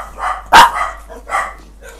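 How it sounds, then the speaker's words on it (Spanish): Dogs barking close by in a home, a few sharp barks with one loud bark standing out, spaced irregularly with short gaps between them. "mis perras cuando se ponen a ladrar"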